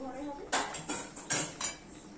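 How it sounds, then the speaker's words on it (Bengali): A metal lid clatters and clinks onto a pan of fish curry, with several quick metallic knocks and scrapes, close and fairly quiet over a low background hum. "এবার ঢেকে দেব, পুরো চাপা ঢাকা দেবো না"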